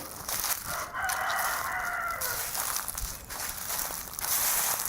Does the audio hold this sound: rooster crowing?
yes